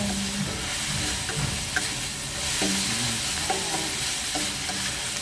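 Onion and tomato stirred in a frying pan, a steady close sizzle and fry with scattered scraping stirs of the utensil against the pan, no talking.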